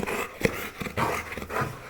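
Dogs pant and whimper excitedly before a walk, with quick breathy pants, small whines and snuffles close by, fairly soft.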